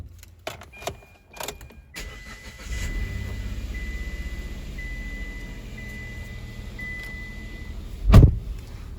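A car engine cranks and catches after about a week sitting idle, settling into a low steady idle with a sharper clunk near the end, recorded close, no talking.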